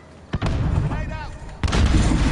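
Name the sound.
grenade explosion in a PS4 video game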